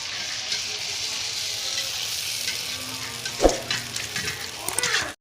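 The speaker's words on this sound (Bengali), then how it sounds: "এগুলো ভেজে নেব সব পিঠেগুলোই ফুলছে বেশ" Malpua pancakes fry in hot oil with a steady, close sizzle throughout. Occasional stirring and scraping clatters rise over the bubbling, and there is no talk.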